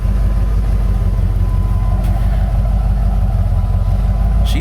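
A 1993 Ford Econoline van engine running rich after throttle position sensor work, a steady close drone of idling and driving with a constant low rumble and no speech.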